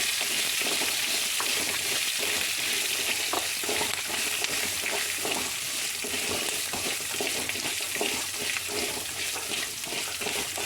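Onion and curry leaves frying in a pan, a steady dense hiss of oil that runs without break, with small stirring scrapes now and then and no talking.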